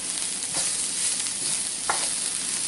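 Shaved Brussels sprouts fry in a pan, giving a loud continuous close sizzle with a few brief stirring scrapes and no talking.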